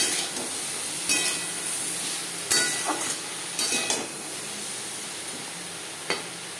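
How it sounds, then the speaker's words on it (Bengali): Snake gourd frying in a pan with salt and turmeric gives a steady close sizzle, broken by a few brief clatters of stirring. "লবণ হলুদ দিয়ে চিচিঙ্গা ভেজে নেব।"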